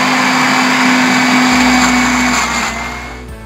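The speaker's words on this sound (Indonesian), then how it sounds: "Kita mulai blender." A blender grinds ingredients for homemade natural broth powder with a loud, steady motor whine close by, its pitch shifting partway through before the sound drops and begins to wind down near the end.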